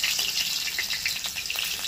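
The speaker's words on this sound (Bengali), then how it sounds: "এর মধ্যে দিয়েছি থেতো করা রসুন" Crushed garlic frying in very hot oil over a wood fire, a loud, bright crackling sizzle that holds steady through the brief moment, close up and alone.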